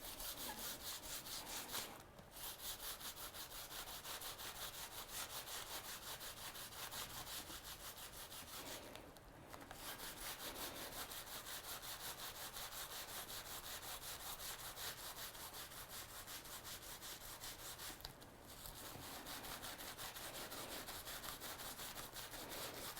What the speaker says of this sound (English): And I'll just grab some tissue. All I'm going to do is I'm just going to give it a good old rub.